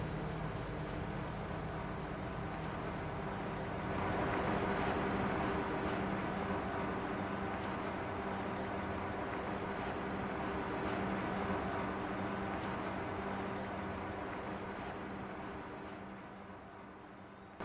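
Long freight train in Farming Simulator 25 pulling away toward the sawmills, a steady low rumble and hum of engine and rolling wagons that swells, holds, then eases off near the end.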